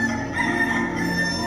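People at a church skit imitate a rooster crowing, a loud, sustained, close vocal crow filling the moment.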